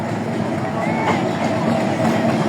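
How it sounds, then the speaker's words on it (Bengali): A train approaching Mahimaganj station from Bonarpara rumbles steadily nearby, with a broad continuous roar and faint rail clatter, while a crowd murmurs in the background. "বোনারপাড়া অভিমুখ থেকে ট্রেন আসতেছে"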